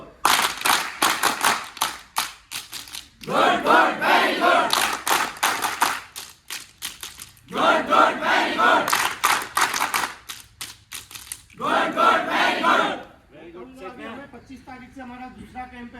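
Camp participants clap in energetic bursts of fast, rhythmic applause separated by short pauses. The clapping is close and loud, and a voice rises briefly after the last burst.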